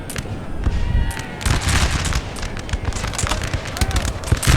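Dense, continuous crackle of massed musket volleys from Napoleon Total War on a multiplayer battlefield, loud and steady with overlapping pops and distant rumbling and no pauses.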